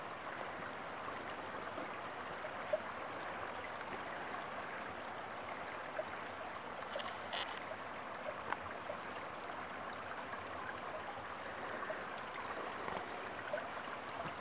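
Water running down a wall in a forest, a steady soft rushing trickle heard faintly and continuously, with no talking over it.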